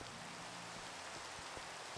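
Steady rain falls in the video game Minecraft, a soft, even hiss of drops that continues without a break.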